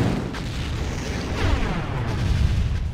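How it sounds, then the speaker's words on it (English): A cluster missile strike in Red Alert 2 erupts into a loud, sustained blast, with a deep rumbling roar and rolling bursts layered over three seconds, close and heavy with no break. "Cluster missile launch detected."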